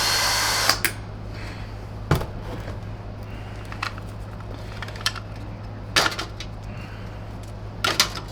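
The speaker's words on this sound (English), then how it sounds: "this wire wheel is the right tool for the job that I'm doing right now" A wire wheel on a power tool stripping plastic from a Tristar EXL MG CS canister vacuum cleaner, a steady whirring hum broken by sharp clicks and scraping bursts of contact, close by.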